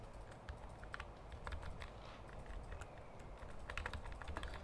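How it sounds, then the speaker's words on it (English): Rapid clicking keystrokes on a new computer keyboard during a fast BuildNow.GG shooter game, steady and close but fairly quiet, with a soft background hum and no talk. "I messed up on my new keyboard more than I messed up on my last keyboard"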